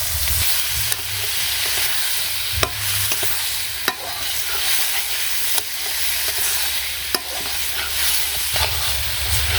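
Spiced mixture with green chillies, coriander leaves, turmeric and chilli stir-fried in a pan, a steady close sizzle broken by scattered clinks and scrapes of a spatula, with no talk.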